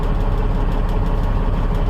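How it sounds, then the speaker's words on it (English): A 2001 Freightliner truck with a twin-turbo Cat C15 engine runs at idle, a loud, steady low diesel rumble heard close and alone, with no change in pace. "this thing does have the Cat C15 engine, twin turbo"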